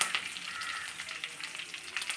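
Curry leaves crackle in hot oil already spluttering with mustard and fenugreek seeds for fish pickle, a dense close sizzle with sharp pops throughout, no voices.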